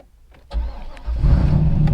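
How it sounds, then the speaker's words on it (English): A manual car's engine is started: a brief starter crank, a pause, then the engine catches and settles into a loud, close, rumbling idle. "so we're going to start our car now"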